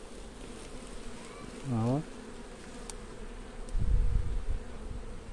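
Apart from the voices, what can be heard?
honeybees buzzing inside a beehive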